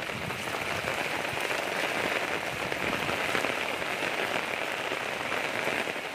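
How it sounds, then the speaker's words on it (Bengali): Heavy rain pours steadily on a flooded street where water stands knee-deep, a dense, unbroken hiss of close drops that stays loud and even throughout with no voices. "প্রচুর পরিমাণে বৃষ্টি হইতাছে"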